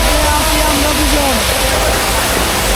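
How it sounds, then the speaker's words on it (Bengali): Water from the Sahasradhara waterfall in the hills of Sitakunda rushes strongly after rain, a loud, continuous broadband roar with a voice speaking over it. "সহস্রধারা ঝর্ণার পাহাড়ের ঝর্ণার কি স্রোত,"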